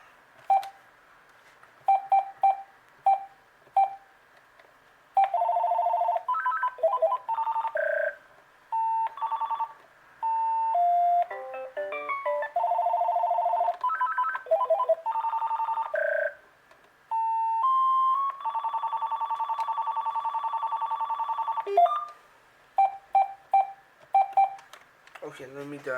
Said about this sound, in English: I really love this ringtone.